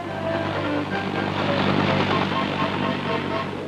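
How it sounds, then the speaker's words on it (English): A steady, loud rotor and engine roar of military helicopters in flight during combat operations, constant throughout with no voices. "Helicopters bring in badly needed supplies and ammunition."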